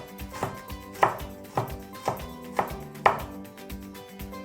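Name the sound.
finely slicing garlic with a knife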